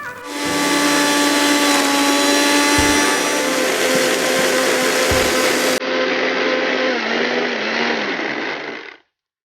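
A kitchen mixer grinder blends washed mint, an inch of ginger and other ingredients into a paste, running as a loud steady whine that drops in pitch partway through before shutting off.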